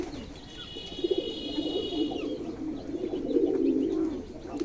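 Pigeons kept among backyard poultry coo in low, rolling, throaty phrases that swell and fade twice, close by, with a faint high bird chirp in the background.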